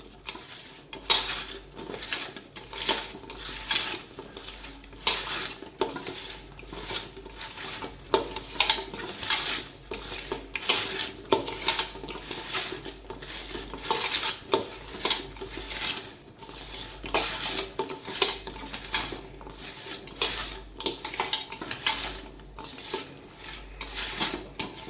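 A spoon clinks steadily against a metal bowl while oil, cumin powder and garam masala are mixed into a spice paste for a ridge gourd curry, a busy continuous scraping and tapping rhythm up close with no talk.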